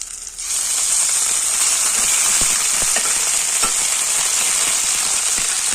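Chopped tomato with ginger and chili paste dropped into hot oil in a pan, a sudden loud, bright sizzle that settles into steady hissing frying with faint stirring ticks, no talk.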